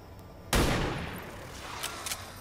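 A single sharp sniper rifle shot in XCOM 2, a loud sudden crack with a long decaying tail, followed by faint scattered game sounds.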